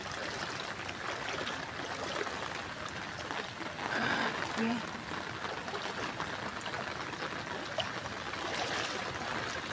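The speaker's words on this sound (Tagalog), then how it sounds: "Lusong tayo sa baha." Someone wades through knee-deep floodwater on a street outside a Manila hospital. Continuous sloshing and trickling water runs throughout, with a brief louder splash midway and voices talking nearby.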